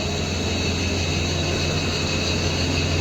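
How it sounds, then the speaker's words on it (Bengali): Machinery at a water filtration plant gives off a constant, dense mechanical drone and hum, loud and unchanging with no voices. "মেশিনগুলো যা চলছে কী বলবো যা আওয়াজ মেশিনের"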